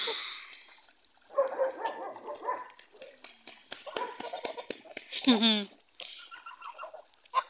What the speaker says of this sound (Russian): У меня индюк с гусями пасется.